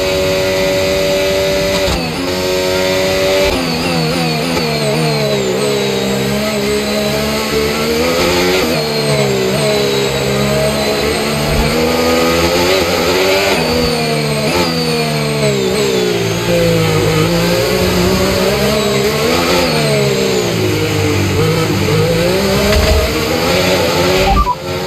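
An F1 race car engine in the F1 25 video game screams loud and continuous, rising and falling in pitch through repeated accelerations and gear changes.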